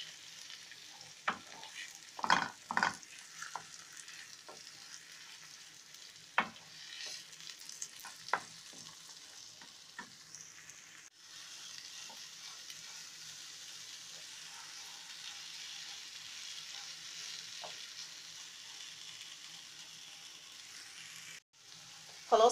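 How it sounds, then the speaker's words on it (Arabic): Eggs frying with date paste in a pan while being stirred, with scraping stir strokes over a steady sizzle that grows more continuous partway through, close and fairly quiet. "وهقلب البيض مع العجوة. لحد ما البيض يستوي"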